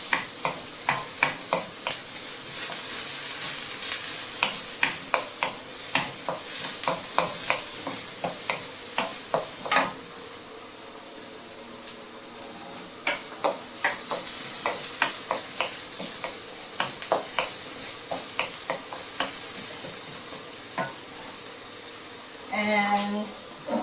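Fried rice stir-fried in a pan: a steady sizzle broken by repeated scraping and tossing strokes, loud and close, with a brief louder clatter near the end.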